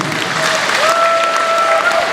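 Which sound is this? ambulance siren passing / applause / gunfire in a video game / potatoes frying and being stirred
applause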